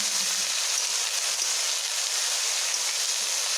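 Water spinach frying in a pan with chili and garlic while being stirred, a steady bright sizzle and crackle with soft stirring scrapes, close and even, with no talking.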